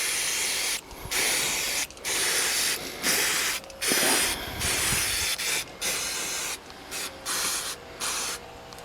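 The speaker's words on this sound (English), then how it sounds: "we'll give her a quick clean up with some brake cleaner" Brake cleaner sprays onto a Mazda part in a series of about ten sharp, close hisses, each lasting under a second and broken by short pauses.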